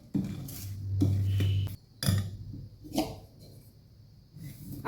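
Fermented idli batter gets stirred in a metal pot, with scraping strokes and sharp clinks of a spoon against the rim in uneven bursts, plus a low hum in the first half.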